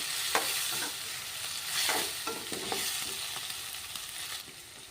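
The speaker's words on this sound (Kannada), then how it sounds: "ಹಾಗಾಗಿ ಸ್ವಲ್ಪ ಟೊಮೊಟೊ ಹಾಕ್ತೀವಿ" Tomato frying in a pan for ridge gourd curry, stirred with soft repeated scrapes over a steady, fairly quiet sizzle.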